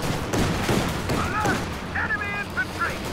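A ghost machine gun fires in a strategy video game match, with bursts of gunfire and distant battle noise mixed in, while a voice talks over the action.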